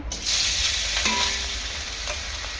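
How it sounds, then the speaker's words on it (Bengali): Katla fish frying in hot oil salted to stop spattering, a loud dense sizzle that swells after a quiet start and holds steady with a couple of soft utensil taps. "এখন মাছগুলোকে ভেজে নেব"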